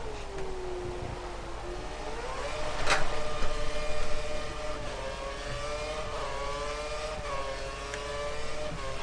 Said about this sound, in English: Horrible wheel spin out there.